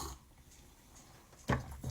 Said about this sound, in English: Freaking dog. Sounds like a cat with a hairball.